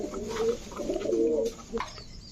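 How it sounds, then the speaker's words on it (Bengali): A male T-checker racer pigeon cooing close by, a few low rolling coos in a row with soft pauses and a faint chirp near the end. "এটা হচ্ছে টি চেকার রেসার নর, এটা নর কবুতর।"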